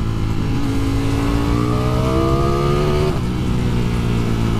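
A 2020 Ducati Streetfighter V4 engine roars loud and steady, its pitch climbing smoothly as it revs hard, then dropping back, with a constant roar of wind and road throughout and no talking.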